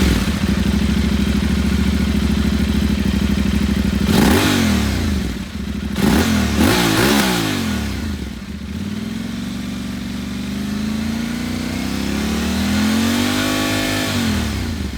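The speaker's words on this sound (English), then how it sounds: "The sound on the Tuareg is superb, at least with the muffler I got." An Aprilia Tuareg 660 adventure motorcycle fitted with an aftermarket muffler idles with a loud, beefy twin-cylinder rumble, then revs sharply several times in quick blips before a longer rising and falling rev, close up.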